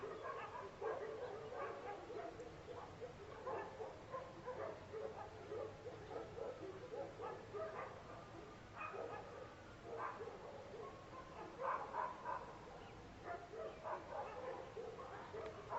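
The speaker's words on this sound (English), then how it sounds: "20 dogs barking." A large pack of around twenty dogs barking at night, overlapping yips, barks and whimpers in a continuous distant chorus lasting throughout.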